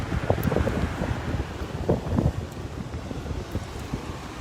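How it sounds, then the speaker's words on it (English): Wind gusting outdoors at a Swampscott roadside standout, buffeting the microphone with loud rumbling bursts and a constant rushing noise. "So as you can see, it's windy."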